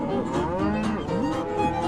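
Texas Longhorn cattle on a trail drive low and moo in overlapping, drawn-out calls, several animals at once, fairly close and loud with no talking.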